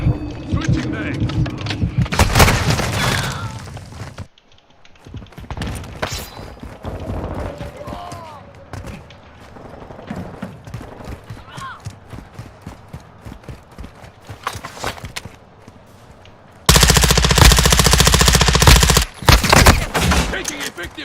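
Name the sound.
gunfire in a video game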